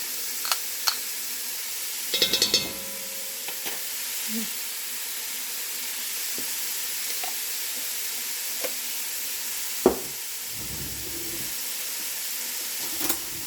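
Minced garlic, two tablespoons, sizzles steadily in a pan for a sausage, potato and kale soup, a constant frying hiss broken by a few sharp clatters and scrapes of utensils.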